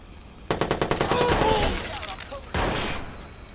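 Shotgun fire in Watch Dogs: a quick run of sharp gunshots rings out close, then a second loud blast follows after a short pause, with a voice talking faintly underneath.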